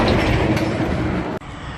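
A train rolls past close below with a steady, loud rumble of rail noise and wheel clatter, broken by a sudden brief drop near the end.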